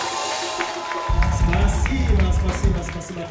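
A concert audience bursts into loud, sustained applause and cheering for the band, the crowd noise swelling suddenly and continuing with scattered sharp claps and shouts.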